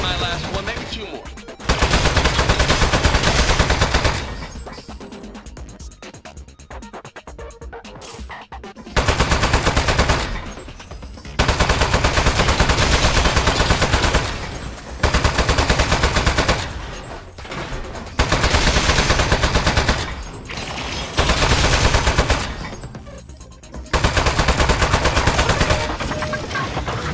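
Turret firing in Aperture Desk Job: long, loud bursts of automatic gunfire, several seconds each, separated by short quieter gaps, with no voices.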